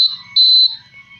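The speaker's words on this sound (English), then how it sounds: "the Arduino triggers the buzzer to blow" A shrill Arduino-driven buzzer in a laser security alarm beeps twice, a short tone followed by a longer one, loud and close against a quiet background.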